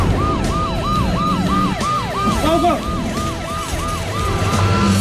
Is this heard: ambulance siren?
yes